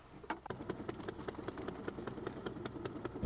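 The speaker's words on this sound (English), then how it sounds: "the old popper's only idling there. You listen to that. She's not doing many revs there." An old fishing boat's engine idles at low revs on a butterfishing trip off D'Urville Island, giving a steady, fairly faint putter of regular low knocks with light clicking on top.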